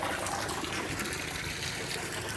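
Steady rushing water pours into a new pool for ducks, a dense, continuous gush heard close up and alone, with no break across the short stretch.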